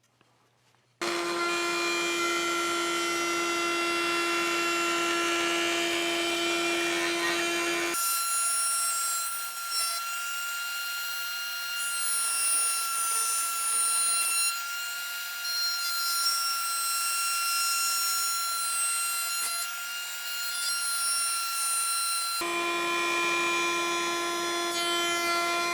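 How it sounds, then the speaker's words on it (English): A router table cuts a rabbet around the edge of a wooden clipboard box, a loud, steady high-pitched motor whine running for over twenty seconds, its load dropping and rising as the workpiece is fed around the bit. "I'll run it around the router bit, and we'll have most or"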